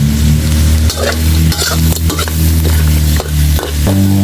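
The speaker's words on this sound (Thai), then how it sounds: "พอกุ้งสุกได้ที่แล้วก็เราใส่ผงกะหรี่ลงไปเลยนะครับ ปัดให้มันได้กลิ่นหอมด้วยนะครับ" Shrimp stir-fried with curry powder crackles loudly in a pan, with repeated scraping strokes of the spatula over a continuous close sizzle.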